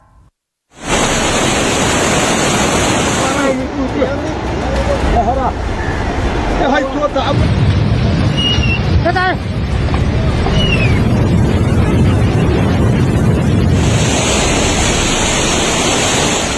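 Floodwater in Sindhupalchowk, Nepal, roars as a loud, continuous rush of churning water, steady and broadband throughout with no voices heard.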